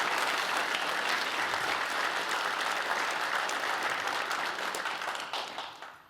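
An audience at an art center event claps in sustained, dense applause that holds steady at full strength, then fades out over the last second.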